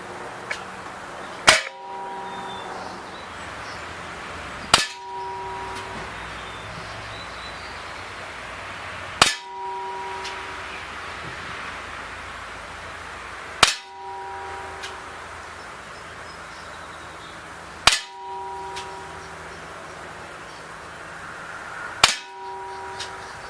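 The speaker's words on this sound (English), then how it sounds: "we're going to do 8 shots on the target from 20 feet out in a semi-rested position" A Gamo PT-85 CO2 pellet pistol fires at a target from 20 feet, six sharp cracks spaced about four seconds apart, each with a metallic ringing clang, over a steady background hiss and no talk.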